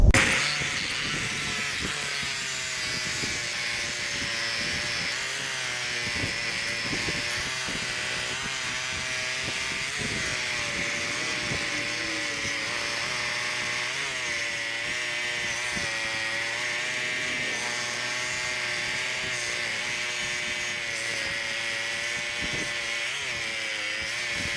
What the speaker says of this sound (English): I'm going to cut this with the Sawzall